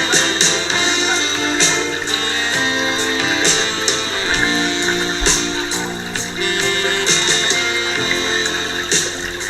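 Music from the montage scene of the film Tootsie plays throughout, a dense, continuous instrumental arrangement with a steady pulse and rhythmic accents, loud and with no talking over it.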